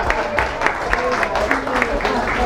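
Audience at a peace award ceremony applauding steadily, a dense patter of clapping with occasional louder bursts, sustained throughout at moderate volume.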